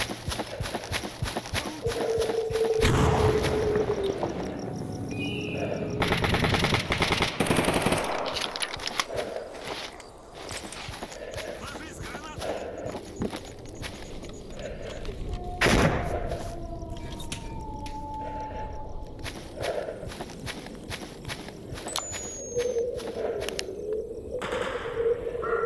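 Bursts of gunfire in Stalker Anthology as a siege at Agroprom unfolds, with repeated shots and rattling volleys spread across the whole stretch over a steady ambient bed, some loud and close, others more distant.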